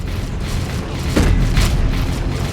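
A turret blowing up in the strategy game Dawn of War 3, a deep booming explosion midway through that swells and lingers over a low rumble of battle noise.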